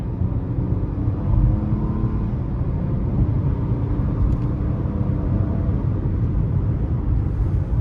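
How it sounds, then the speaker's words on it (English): A 2023 Nissan Murano SL accelerating, heard from inside the cabin as a steady, loud low engine and road rumble that holds evenly throughout, with no voices. "Let's give it some gas here."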